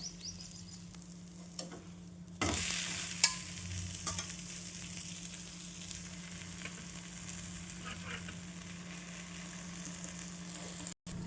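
A vegetable breakfast pancake crackles softly in a pan while being roasted on both sides; an abrupt scrape and louder burst of sizzling enter early, then a steady, close frying hiss continues.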